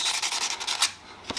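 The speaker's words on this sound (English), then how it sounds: "Carefully sanding it till it does." Hand sanding on a 1937 Ford flathead engine part, a close, steady rasping rub in repeated strokes with a short pause near the end, heard alone with no talk.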